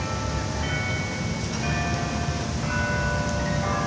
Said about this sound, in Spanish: Las campanas se están oyendo.